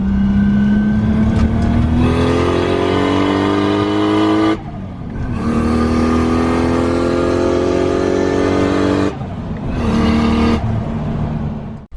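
A Nissan Skyline with a newly fitted wastegate accelerates hard on its first drive, the engine rising in pitch through long pulls with brief pauses at gear changes, loud and close, with no talking.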